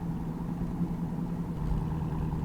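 A Dodge Challenger Hellcat Redeye with a supercharged V8 and Borla cat-back exhaust drones steadily from inside the cabin, a low, even engine rumble with supercharger presence and no talking.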